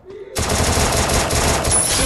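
Sudden burst of rapid automatic gunfire from Free Fire, loud and continuous after a brief quiet start.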